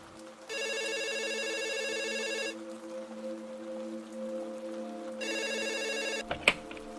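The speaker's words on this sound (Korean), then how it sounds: "갑자기 집 전화가 울리더라고요" A home telephone rings in two electronic bursts, the first about two seconds long and the second shorter, loud and close in an otherwise quiet room, with a sharp click or knock right after the second ring.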